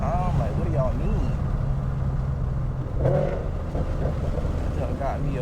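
Mustang GT fitted with headers, its engine note droning and swelling under steady talk, with a louder rev burst near the three-second mark.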